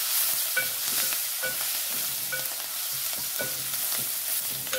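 Green chillies, kokum and garlic sizzle steadily in hot oil for a village-style okra fry tempering, with repeated scraping and clinking as a spoon stirs the pan, close and continuous.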